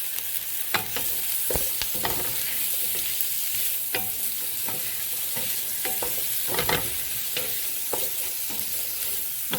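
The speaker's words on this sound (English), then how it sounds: "in the same pot, we've added in some olive oil. And now we're going to pop in our onions." Onions frying in olive oil in a pot for a Guinness stew give a steady near sizzle, broken by repeated sharp scrapes and knocks of a spoon stirring; nobody speaks.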